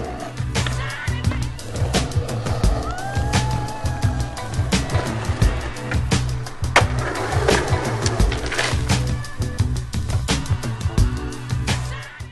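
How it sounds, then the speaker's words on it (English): Skateboards ridden on a street, wheels rolling with a low rumble and frequent sharp clacks and pops from the decks, loud and close throughout, with faint bird calls in the background. "skaters in the streets, riding the product"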